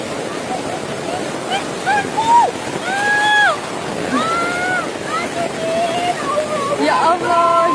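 Floodwater from a flash flood rushes through a residential area in Sumber Manjing, Malang, East Java, a steady loud wash with wind noise across the whole stretch, while voices call out over it.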